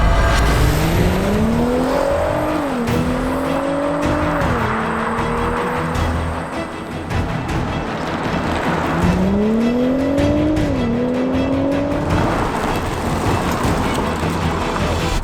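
Three cars race down a drag strip, a 2022 Audi RS3, a 2022 BMW M3 and a stage 1 Audi RS3, with loud engines climbing through gears in two rising runs of shifts, the roar staying constant throughout.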